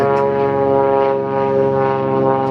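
A propeller airplane flying overhead, a loud steady droning engine hum with strong harmonic tones, no talking.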